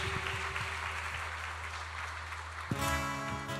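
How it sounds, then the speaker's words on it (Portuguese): A church congregation applauds, a broad patter of clapping under a sustained low organ or keyboard tone, with the instrument shifting to a fuller chord near the end. "Vamos aplaudir ao nosso Deus."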